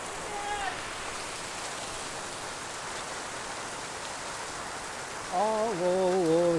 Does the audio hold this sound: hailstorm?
yes